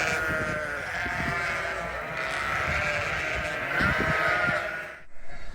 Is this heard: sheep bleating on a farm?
yes